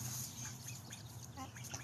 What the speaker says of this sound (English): our Peking ducks.